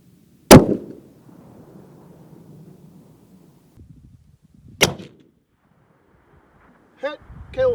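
Ruger RPR bolt-action rifle in .338 Lapua Magnum fired at a long-range range in Wales, with targets at 1000 metres: two sharp, loud shots about four seconds apart, each trailing a rolling outdoor echo, followed by a brief voice near the end.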